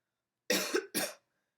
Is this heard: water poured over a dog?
no